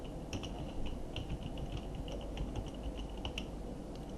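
Rapid key presses on a computer keyboard while entering an exam title into a Google Form, a close, uneven patter of clicks with no talking.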